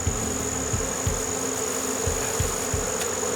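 Honeybees fanning their wings at a hive tended by a beekeeper make a steady, close, droning buzz with a continuous hum and a few faint low thumps underneath.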